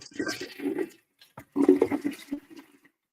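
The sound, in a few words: toilet flush sound effect from soundboard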